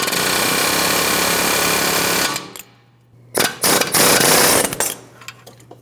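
A power tool drives the front ball joint out of a Ford Transit 250, giving loud, steady rapid hammering for about two seconds. After a short pause, two more bursts of hammering follow, close and harsh.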